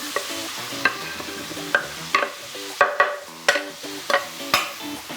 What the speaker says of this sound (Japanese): これを炒めていきながら、切った野菜はフライパンに移していきます